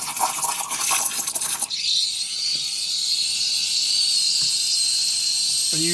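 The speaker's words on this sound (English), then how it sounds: "right now you got that high-pitched steam sound" Steam wand of a Breville BES900XL espresso machine steaming milk, starting after a muffled rustle with a loud, steady high-pitched hiss that holds on with a few faint clicks and no talking.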